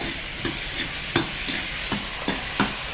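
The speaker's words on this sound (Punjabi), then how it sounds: "ਜਿਹੜੇ ਆਪਣੇ ਪਿਆਜ਼ ਹੈ ਟਮਾਟਰ ਹੈ ਇਹ ਅੱਧ ਭੁੰਨ ਚੁੱਕੇ ਆ" Onions and tomatoes sizzle steadily in a pan while a spoon scrapes and stirs at regular intervals, a soft continuous frying hiss with no talking.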